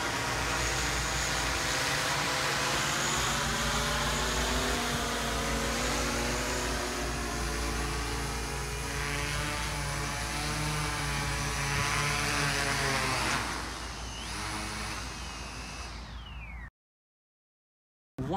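A Walkera Voyager 5 drone with 30x zoom flies in to land, its propellers giving a loud steady buzzing whine that holds, then drops and fades as the rotors wind down before cutting to silence.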